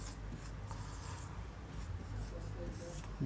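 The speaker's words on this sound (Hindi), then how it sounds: "बीच में ही लिख देता हूं" Chalk or marker writing on a classroom board, soft scratchy strokes in short bursts, faint and close, with no talk over it.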